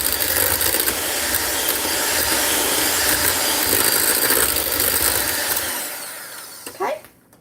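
An electric mixer whirs through creamed potatoes as a loud, steady motorized drone, which cuts off near the end and leaves a brief clatter.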